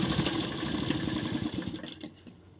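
Sewing machine running steadily while stitching a blouse shoulder seam, a close rapid mechanical whir that fades and stops near the end, with no talk.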